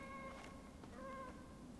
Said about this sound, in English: That's a cat. Why did I hear a cat?